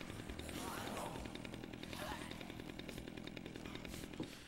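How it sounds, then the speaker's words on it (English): Chainsaw in the video game Dead Rising 2, a steady buzzing rasp that runs throughout, fairly faint and mixed with game noise and player talk. "And I got my chainsaw."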